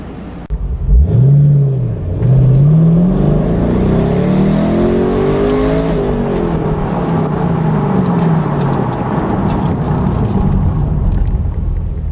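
A 2014 Chevy Corvette Stingray or Camaro SS convertible with a dual exhaust system revs hard, its pitch sweeping up and down before settling into a loud, sustained throaty roar close by.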